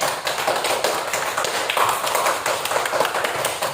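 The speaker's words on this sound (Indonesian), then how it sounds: "boleh tepuk tangan dulu untuk kelompok ini" Students in a classroom clap for a group that has just presented, a dense, steady patter of many hands close by throughout, with no speech over it.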